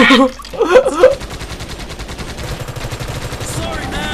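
Rapid automatic gunfire rattles on in the video game Elite Forces survival mode, as a dense, continuous fusillade of shots that follows a brief excited voice at the start.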